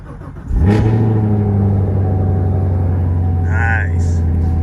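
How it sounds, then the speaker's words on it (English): A 2020 Camaro engine cranks and catches on a cold start, then settles into a steady, loud, rumbling idle close by. "let's listen up to this little cold start real quick"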